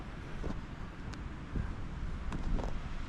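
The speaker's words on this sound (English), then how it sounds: "Lots of wind from the north" A strong north wind on a snowy, below-freezing day buffets the microphone as a steady, loud broadband roar with irregular gusts and no talking.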